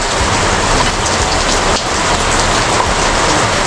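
Heavy tropical downpour during the rainy season, a steady dense hiss of rain pounding surfaces, continuous and loud with no voices.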